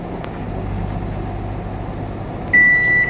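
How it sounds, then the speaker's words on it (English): A microwave oven hums steadily as it runs a short 5-second cycle after a capacitor replacement, then ends with a loud, sharp electronic beep. "Let's fire it up, set 5 seconds on the timer"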